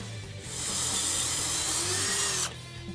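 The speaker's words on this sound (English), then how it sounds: "then we're going to mark the holes and drill them out." A power drill whirs steadily for about two seconds, a sustained high-pitched grind biting into a 2015-2017 Mustang GT's metal frame rail, then stops abruptly.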